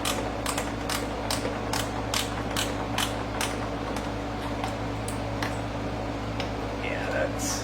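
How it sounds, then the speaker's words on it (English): A straight ratchet clicks in a rapid run of sharp ticks while tightening a bolt on the front splitter of a 2023+ Corvette C8 Z06, then slows to scattered clicks over a constant low hum, close up. "Now I'm going to try to do my straight ratchet."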